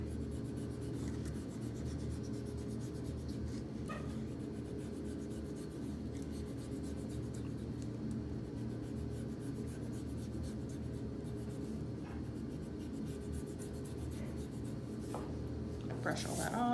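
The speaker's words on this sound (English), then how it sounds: "I'm gonna go ahead and erase my guidelines." Pencil guidelines being erased from brush lettering on paper, a steady soft rubbing scrub that continues close up for the whole stretch, with faint flicks near the end.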